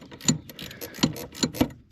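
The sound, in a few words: ratchet wrenches tightening steering intermediate shaft bolts on an Audi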